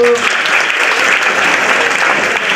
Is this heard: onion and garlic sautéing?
no